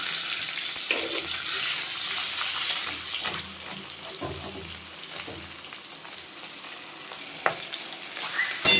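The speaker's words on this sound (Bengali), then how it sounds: "মাছের মাথাটাও ভাজা হয়ে গেছে আমি তুলে নিলাম" Rohu fish head frying in hot oil in a home kitchen, a steady close sizzle and crackle running the whole time with a few brief clinks and a sharper pop near the end.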